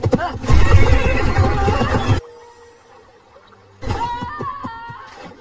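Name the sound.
horse neighing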